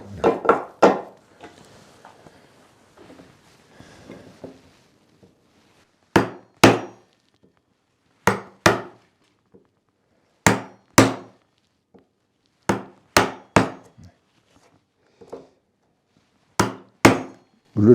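A steel hammer drives a wood chisel into timber while cutting joinery for a traditional Korean tortoise-shell lattice window. The sharp, close knocks come in pairs and triplets with brief pauses between groups, after some softer scraping at the start.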